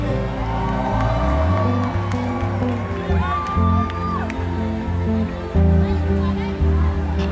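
Concert crowd at a live festival show cheering, whooping and shouting continuously, loud and close, with music and voices mixed in.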